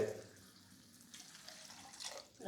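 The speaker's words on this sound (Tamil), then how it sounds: "தண்ணி சேர்த்துக்க போகிறோம்" Water is poured from a glass into a cooking pan while making Bombay chutney, a soft, faint trickling and splashing lasting a couple of seconds with a slight burst near the end.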